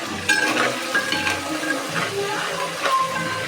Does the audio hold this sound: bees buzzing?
no